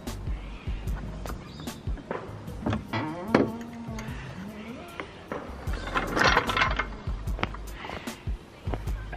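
Tightening the top nut of a coilover on a Honda Accord makes a series of ratcheting clicks and mechanical buzzing, with scattered metallic knocks, close and moderately loud.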